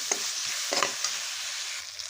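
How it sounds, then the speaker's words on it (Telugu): Onions, curry leaves and finely chopped tomato frying in a pan, a steady close sizzle with a few soft stirring scrapes and no talk. "వేసేసి టమాటానైతే 1 నిమిషం పాటు బాగానైతే వేగనివ్వండి"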